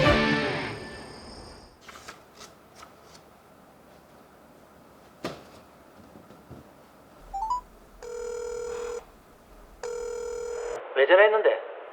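A telephone ringing for an incoming call: two bursts of electronic ringing tone, each about a second long, separated by a pause, after rustling and handling noises, with a brief electronic chirp at the end.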